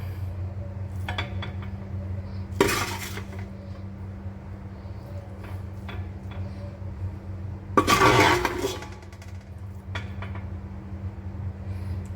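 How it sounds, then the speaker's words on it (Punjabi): Egg masala pasta is scooped from a cooking pot into a small dish, with two sharp clanks of a utensil against metal over a steady low hum, plus a few lighter taps between. "ਤੇ ਹੁਣ ਉਹਨੂੰ ਆਪਾਂ ਕੱਢ ਦਾਂਗੇ ਛੋਟੇ ਭਾਂਡੇ 'ਚ"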